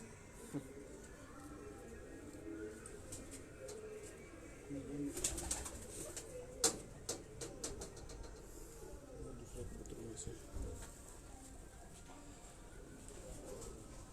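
Pigeons of a green-necked breed on a rooftop in Rawalpindi, soft cooing with scattered wing flaps and clicks, fairly faint over low ambient noise.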